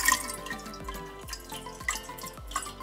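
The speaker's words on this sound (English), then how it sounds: "Oh, there's a drip." Water dripping from a homemade cooling drinking straw, several single drips spaced about half a second apart, close and fairly soft, falling into water with no talking.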